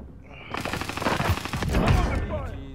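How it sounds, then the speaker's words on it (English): Rapid automatic gunfire in a video game firefight, likely a PPSh submachine gun, rattling in dense bursts that swell and overlap for nearly the whole stretch, loud and close. "Taking fire"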